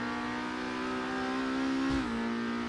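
A supertourer race car engine in Assetto Corsa holds a steady, buzzing rev that dips sharply near the end, heard close and alone.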